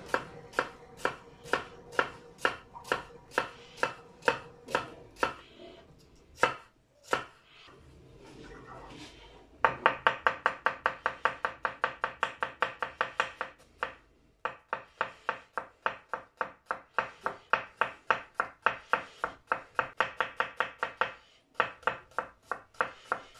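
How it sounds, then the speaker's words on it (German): A knife finely chops an onion on a cutting board in fast, regular strokes, with a short pause partway through before the rhythmic chopping resumes and continues to the end. "Ich hack sie fein und gut."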